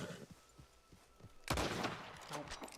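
A gunshot at a sheep in the Red Dead Online video game: one sharp, loud crack cuts through soft background thumps and faint ambience, then trails off into lingering rumble.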